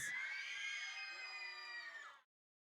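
High-pitched squealing and cheering from a crowd at a cosplay contest, a dense sustained shriek of many voices lasting about two seconds before cutting off abruptly.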